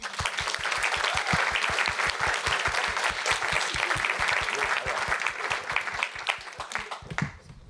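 An audience at an international ocean hackathon grand finale claps in sustained, dense applause with a strong rhythmic beat, then it stops abruptly near the end as a voice begins.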